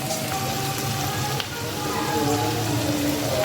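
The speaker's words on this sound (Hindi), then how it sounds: "यहाँ पे प्याज इसलिए डाल रही हूँ कि मसाला प्याज का ही बनेगा।" Steady, loud sizzling as four medium onions fry in hot oil, a continuous crackling hiss with no voices.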